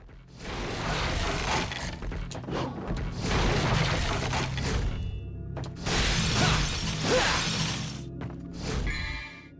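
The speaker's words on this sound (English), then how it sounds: "Breakables. Hey, smashing things is just fun." Objects shattering and crashing in Devil May Cry 3 as breakables get smashed, loud repeated bursts of breaking debris in several waves with short pauses between them, no talking.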